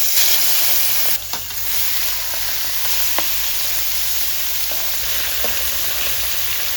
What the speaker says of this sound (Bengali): এখন দিয়ে দেব মাছ ভাজা